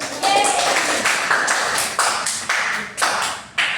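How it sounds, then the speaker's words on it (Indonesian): A classroom of students claps in a rhythmic pattern, sharp claps landing roughly every half second over a few seconds, with some voices underneath. "Beri tepuk tangan dulu."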